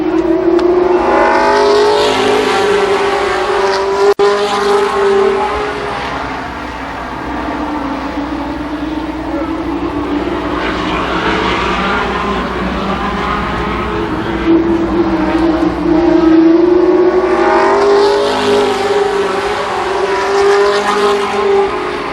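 Race cars roar around the oval at Columbus Motor Speedway during a Labor Day championship event, engines surging and fading continuously as the field laps, loud and sustained with rising and falling pitch sweeps.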